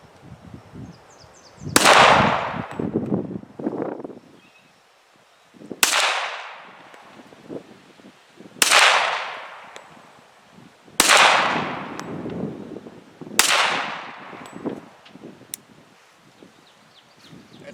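Five sharp, loud shots from a 1911 handgun fired one at a time, each a hard crack with a trailing echo, spaced about two to three seconds apart with quiet gaps between.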